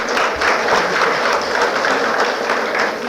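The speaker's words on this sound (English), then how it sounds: "We can please continue clapping." An audience at a medical conference closing ceremony claps steadily and loudly throughout, a dense patter of many hands close by with no break.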